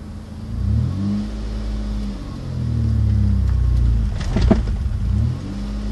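Ford Contour engine idling unevenly with a shuddering, wavering low rumble as it is shifted into reverse, the revs dipping and recovering close by, with a brief clatter partway through.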